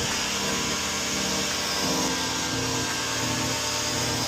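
A soap-filled pressure washer sprays a car being prepped for a wrap, giving a steady, loud, broadband hiss with no break from start to finish.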